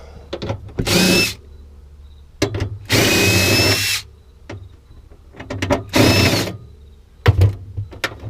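A power drill spins out quarter-inch bolts from a household appliance being scrapped, loud whirring bursts of about a second each separated by clicks, clanks and handling noises at close range.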